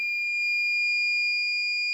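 Steady continuous electronic tone from a 1200W FCHAO pure sine wave inverter's low-voltage alarm, triggered as battery supply drops to about 10.7 volts; two bright sustained pitches hold unbroken for two seconds with no talk.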